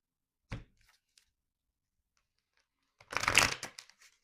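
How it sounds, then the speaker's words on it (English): A deck of playing cards being shuffled, one short riffle burst near the start followed by a longer, louder crackling shuffle toward the end, with quiet in between and no talking. "Need to shuffle the cards."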